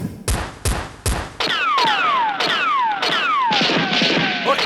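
A Nerf gun fight brings a rapid series of about eight loud shot bursts, the first few sharp and spaced and the later ones blending into whistling, sweeping tones, heard close with no talk.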